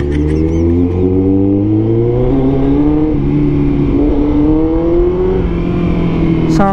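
A Kawasaki ZX14R motorcycle with a new aftermarket exhaust idles and revs steadily with a deep, throaty exhaust drone, pitch rising and falling slightly, loud and close throughout.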